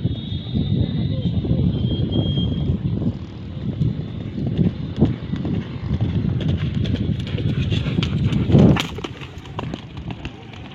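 Horses gallop during morning practice for a traditional Gayo horse race at the Sengedang track in Bener Meriah, Aceh. Hoofbeats thud irregularly against steady wind noise, with one sharper, louder burst near the end.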